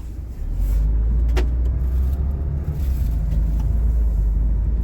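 2025 Peugeot Expert Professional L2 van with a B-HDI engine setting off, a loud, steady low rumble of road and engine heard from inside the cab, with a few faint clicks and no talking.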